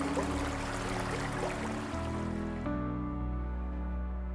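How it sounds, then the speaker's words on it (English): Stream water flowing through the gorge at Watkins Glen State Park, with nearby waterfalls, a steady broadband rush that holds constant and close throughout, with no voices. "sounds of nature, stream water flowing,"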